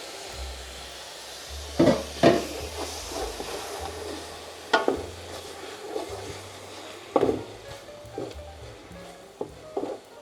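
Chopped tomatoes go into a pan of mint and green chillies for an oven-baked prawn biryani, with a low sizzle under a handful of sharp clatters and scrapes as the mix is stirred.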